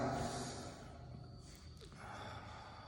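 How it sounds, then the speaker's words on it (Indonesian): A single deep breath drawn in slowly during a breathing exercise, a long airy rush that fades gradually, close and alone with no talk. "kita belajar dulu tarik nafas."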